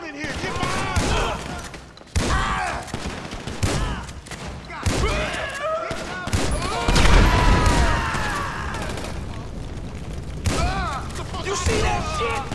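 Bursts of rapid gunfire and booming shots during a shootout in Grand Theft Auto V, coming in loud clustered volleys with brief gaps between them, while voices shout over the chaos.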